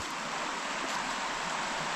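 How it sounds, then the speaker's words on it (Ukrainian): Steady broadband rush of a river flowing alongside a forest path in the mountains, continuous and fairly close, with no voices over it. "як гарно пройтися так вздовж річки, шум водички"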